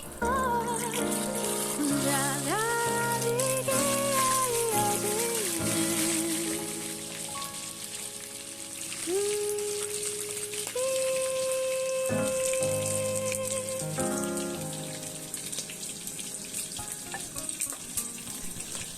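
Chicken frying in oil in a pot, a steady crackling hiss running through the whole stretch beneath louder melodic background music.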